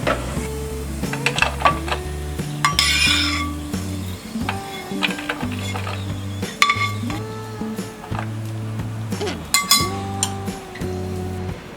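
Fried cashews being tipped from a hot pan onto a plate, with bright metallic clinks and scrapes of utensils against cookware in an irregular rhythm, close and fairly clear.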